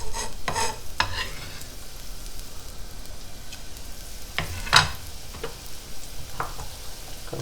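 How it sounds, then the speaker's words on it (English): Chopped leeks sizzle steadily in hot olive oil in a pan, with a few sharp stirring clatters and spoon scrapes breaking through the frying hiss. "We're looking for that sizzle, right?"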